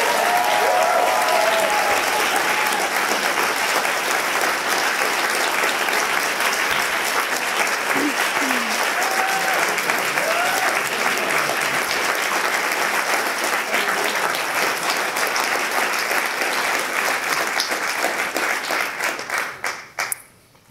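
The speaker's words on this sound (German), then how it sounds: "Daher bitte noch mal einen großen Applaus für alle zusammen." A large audience at a poetry slam gives long, sustained applause for the performers, dense and even throughout, with brief voices rising over it before it cuts off at the end.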